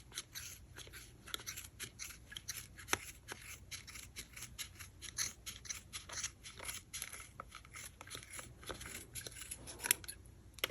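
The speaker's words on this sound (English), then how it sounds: "take your scissors and just trim" Scissors snip rapidly and repeatedly through yarn, a steady run of small crisp cuts close by, faint against quiet background hiss.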